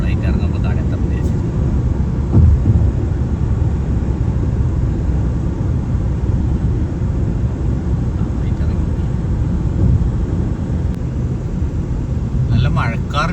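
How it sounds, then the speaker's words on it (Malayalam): A passenger airplane descending to land at an airport, a steady deep engine rumble that carries on through the whole stretch, with a voice talking over it. "ഒരു ഫ്ലൈറ്റ് ഇങ്ങനെ ഇറങ്ങി വരുന്നുണ്ട്."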